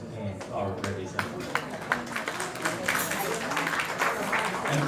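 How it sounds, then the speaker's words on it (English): An audience at a formal hotel event in Makati applauds for the president, a continuous mass of clapping from a large room, with a voice talking over it. "let's give a round of applause again to our president"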